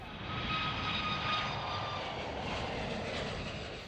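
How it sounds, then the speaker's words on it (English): A Chinese-made C919 passenger jet flies over Victoria Harbour and Hong Kong Island, its engines a broad, steady roar that swells slightly and holds loud throughout, with no talk. "the Chinese-made C919 passenger plane staged a flight demonstration over Victoria Harbour and Hong Kong Island this morning"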